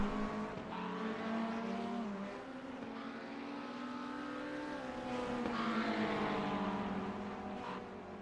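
Sports cars race around a track in a racing video game, several engines droning at once with pitch rising and falling as cars pass close by, continuous and with no talk.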